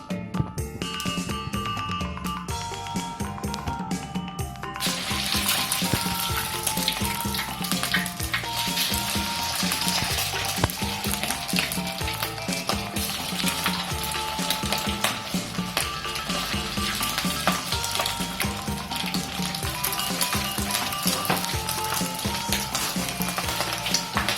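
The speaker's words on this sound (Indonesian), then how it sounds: "Habis itu kita masukin kentang yang sudah kita bulatkan. Kita goreng lagi sampai kuning." Potato patties (perkedel) frying in oil in a wok give a dense, continuous sizzle that grows louder and fuller a few seconds in, when the patties go into the oil, with faint scraping from stirring.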